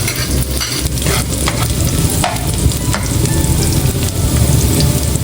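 Garlic and onion sautéing in hot oil for chicken afritada: a loud, close, continuous sizzle with scraping stir strokes and a few sharp clicks of a utensil against the pan, no voices.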